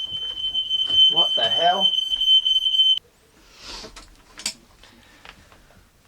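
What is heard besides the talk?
smoke alarm beeping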